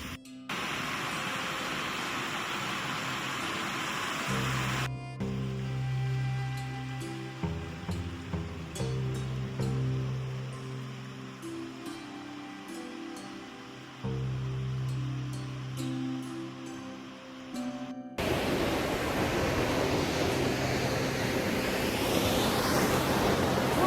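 A waterfall on the Trail of Ten Falls in Silver Falls State Park, Oregon, makes a loud, continuous rushing roar. It breaks off abruptly partway through, where a choppier, more tonal passage takes over, then the roar returns fuller. There is no speech.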